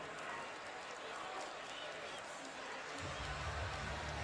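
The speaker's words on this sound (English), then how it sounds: "a fired up crowd here tonight at the Breslin Center" A fired-up basketball crowd at the Breslin Center during a Michigan at Michigan State game, a steady loud roar of cheering and noise that swells with a deeper rumble near the end, under continuous talk.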